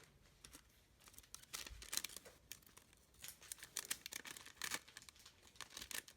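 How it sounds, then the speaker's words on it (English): Close, crisp snipping and crinkling of parchment paper as tooth-edged scissors cut along its edge in uneven bursts, with soft rustling between cuts. "Then I got my little teeth style scissors and cut along the edge."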